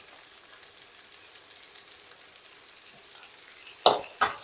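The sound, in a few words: yardlong beans stir-fried with vegetables in a pan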